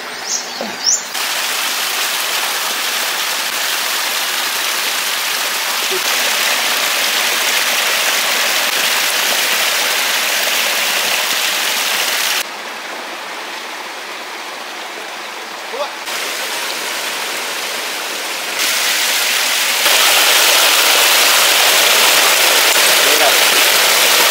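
Steady rushing water flows continuously, loud and broadband like a stream or outflow, with level shifts as the position changes and faint birdsong, as water is drained out of a fishpond.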